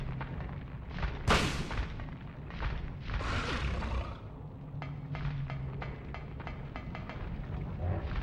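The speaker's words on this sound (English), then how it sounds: "I'm going to try this with a shotgun." Shotgun fire in the PSX video game Silent Hill: two heavy blasts a couple of seconds apart, followed by a string of sharp, clicking game effects over a low background hum.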